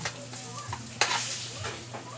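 Pork adobo base being sautéed in a pan, likely with garlic, giving a steady close sizzle with a few sharp stirring scrapes and clinks throughout, no talking.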